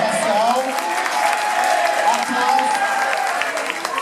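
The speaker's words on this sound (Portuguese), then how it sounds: "primeiramente pedir aplausos a todas pela participação" Club audience at a drag competition night at Danger Dance Club applauding the participants, a dense steady wash of clapping with some crowd noise, a voice speaking over it.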